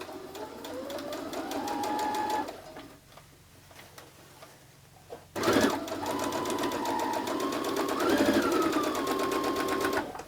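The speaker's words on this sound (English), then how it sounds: "you can start sewing these down." A sewing machine stitches flat-head pins onto a purse, a steady rapid mechanical chatter that runs, pauses for a couple of seconds, then resumes with a sharp clack and continues at a fairly quiet, even level.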